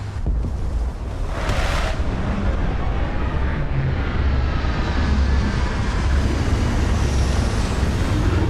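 An aircraft comes in to land, a loud, steady broadband roar of engine and rushing wind that holds unbroken throughout, with a brief brighter swell near the start.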